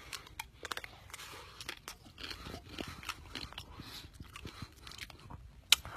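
Someone bites into a double caramel Magnum ice cream bar, giving a series of faint, close crunches and cracks of the chocolate coating followed by soft chewing, with a sharp snap near the end.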